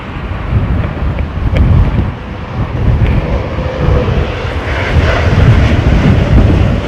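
An airplane landing in strong wind at London Heathrow Airport, its loud engine roar rumbling continuously with gusty wind buffeting the microphone throughout, no talk.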